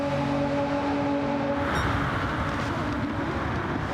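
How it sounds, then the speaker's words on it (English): Engine noise of racing cars in a video game race at Goodwood roars up a straight, a broad rushing drone with a brief rising whine, loud and continuous, as a musical tone cuts off early. "Have a little listen to these cars as they hammer up straight."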